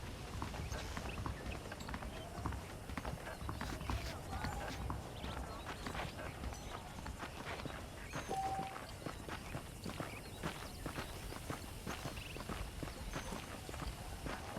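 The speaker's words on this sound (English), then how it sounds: "The horses are saddled up over here." Horse hooves clip-clop at a steady trotting rhythm in Red Dead Redemption, over a low background murmur, the beats continuing evenly throughout.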